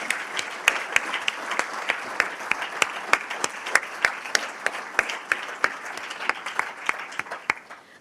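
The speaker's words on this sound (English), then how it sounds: "Could we have a big round of applause for all of our honorees?" An audience applauds award honorees at an alumni fellow awards ceremony, a sustained round of many hands clapping with crisp individual claps, fairly even and moderate in level before tapering slightly at the end.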